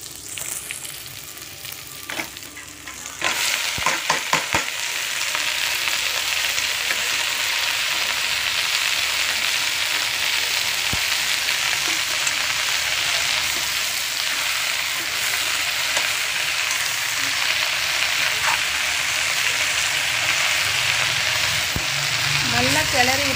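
Spinach tossed into a pan of sautéing onion and garlic sizzles in a steady, close, loud hiss, with a few stirring clatters near the start and no talking.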